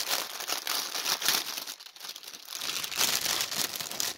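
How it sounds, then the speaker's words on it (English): Crinkling plastic bag from a pre-stamped cross stitch kit being handled up close, a steady stretch of loud crackly rustling with brief dips, no talking. "Shall we look at the colors first and get the crinkling over?"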